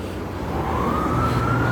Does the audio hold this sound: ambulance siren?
yes